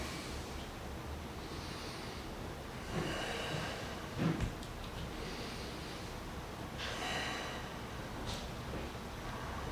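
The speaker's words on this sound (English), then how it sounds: "Just 4 breaths now." Slow, deep yoga breathing in warrior one pose: several long, airy inhales and exhales through the nose, close and fairly soft, spaced a few seconds apart with no talking.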